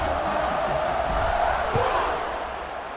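A stadium crowd in a college football video game, Ohio against Marshall, roars steadily at kickoff, a broad wash of cheering that swells and then fades slightly toward the end.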